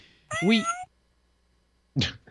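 A cat meows twice, a longer wavering call followed by a shorter one after a pause, fairly close and clear against quiet.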